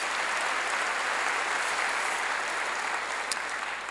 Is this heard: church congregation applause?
yes